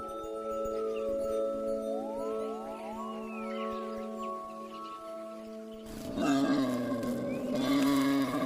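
A wild boar mother gives a warning call, loud, drawn-out animal roaring and grunting that swells near the end. It comes from a wildlife documentary setting, with no speech over it.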